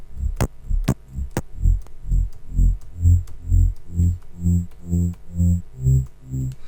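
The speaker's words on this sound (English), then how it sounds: "Then we have a low bass, which is the main bass actually, which sounds like this" Low main bass layer of a Melbourne Bounce bass line, a steady bouncing pattern of short punchy bass notes repeating on a regular beat, with a few sharp clicks near the start, alone with no voices.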